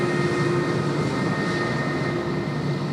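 A Jetstar airliner in one of the airline's original, older liveries, registration VQG, moves at Sydney Airport, producing a loud, continuous jet engine roar with a steady tonal hum that holds throughout.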